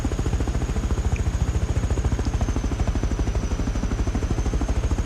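An attack helicopter in the video game Rust flies with a loud, steady, rapid rotor thump that repeats evenly throughout, with no talking.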